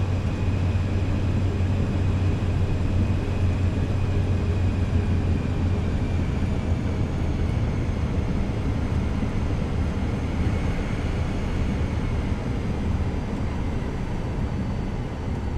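A simulated airliner in Microsoft Flight Simulator 2024 taxis off a wet runway, a steady low engine rumble and drone holding evenly throughout, with no voices.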